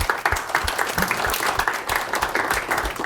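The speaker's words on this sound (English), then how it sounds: "Can you give him an applause?" Audience applause at a live career-club event, a dense, steady wash of many hands clapping that holds evenly for about three seconds.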